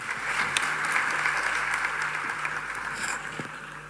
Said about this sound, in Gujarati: વધાવો તાળીના ગરગા